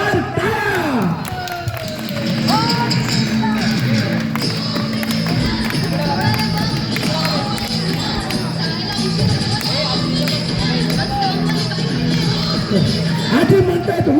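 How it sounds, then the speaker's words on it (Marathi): A crowd at a Home Minister 2024 contest cheers and shouts for the first-place prize winner, a loud, continuous roar of whoops and raised voices with a repeating tonal pattern running underneath. "एकदा जोरदार टाळ्या."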